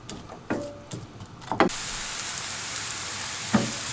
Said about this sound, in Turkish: Şimdi soğanım yumuşayana kadar kavuracağım.